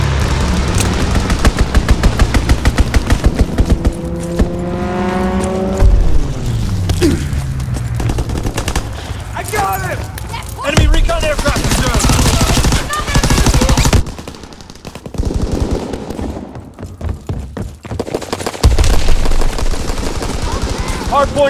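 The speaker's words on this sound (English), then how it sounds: "Enemy strafing run inbound." Enemy aircraft strafing run in Call of Duty WWII multiplayer, loud sustained bursts of machine-gun fire and impacts with a descending engine whine, dense and close throughout.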